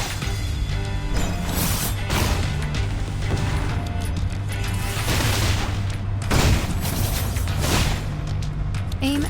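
Gunfire in the video game Reverse: 1999, rapid dense bursts of shots and booms repeating over several seconds, loud and close with a continuous mechanical backdrop.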